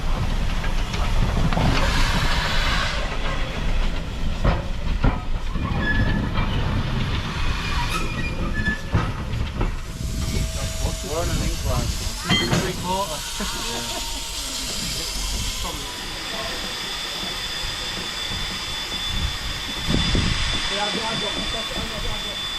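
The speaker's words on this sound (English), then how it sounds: "now the locomotive will switch ends again using a little loop" A Middleton Railway locomotive runs round a short loop to switch ends, with rumbling wheels, clicking rail joints and occasional squeals and hisses over a busy outdoor background; faint voices can be heard at times.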